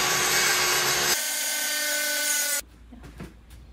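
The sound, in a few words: circular saw cutting wood panel along clamped guide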